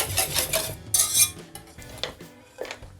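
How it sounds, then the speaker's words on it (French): Quick clinking and scraping of a whisk against a bowl as milk is whisked into egg yolks, brisk irregular strokes close by, with no voices. "je verse le lait sur les jaunes tout en mélangeant"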